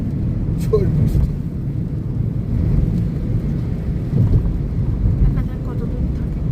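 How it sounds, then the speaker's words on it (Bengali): Thunder and heavy rain during a storm on a highway drum against a moving car. A constant rushing wash of rain and road noise carries on throughout, with a rumble of thunder, and people talk in the cabin. "হাইওয়েতে বৃষ্টি, মধ্যখানে একটু ছেড়েছিল, আবার স্টার্ট ঝড় বৃষ্টি।"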